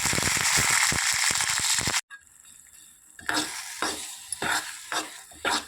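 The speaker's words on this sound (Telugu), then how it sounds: "ఎండుమిరపకాయలు కరివేపాకు వేసి పోపు పెట్టుకోవాలి" Dried red chillies and curry leaves hit hot oil with cumin and mustard seeds for a tempering, giving a sharp burst of stirring clatter, a sudden cutoff, then a lively sizzle crackling with irregular pops.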